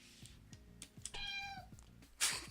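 A cat gives one drawn-out meow amid soft rhythmic tapping, followed by a sharp burst of noise at the end.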